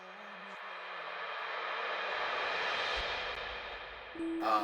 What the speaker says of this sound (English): there's this little swell that I have going on